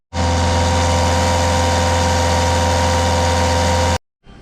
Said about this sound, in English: we need to raise the revs a little bit.